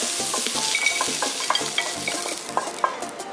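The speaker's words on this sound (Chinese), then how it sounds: "再把鸭肉倒进去，干炒掉一点水分，让鸭肉焖起来比较入味，而且更香。" Duck meat is dry stir-fried in a hot wok, a continuous loud sizzle broken by frequent metallic spatula scrapes and clinks against the pan, close up with no talking.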